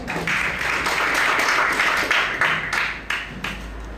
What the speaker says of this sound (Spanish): Recibámoslo con fuerte aplauso